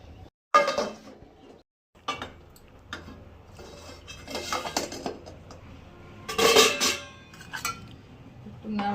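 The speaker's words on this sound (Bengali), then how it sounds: "একটু নাড়াচাড়া দিয়ে নিলাম।" Rice and split peas stirred in a metal pot, a series of close clinks and scrapes from a spoon against the pot, coming in bursts separated by quieter moments.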